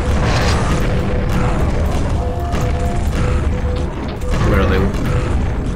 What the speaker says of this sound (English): now time for lots of grenades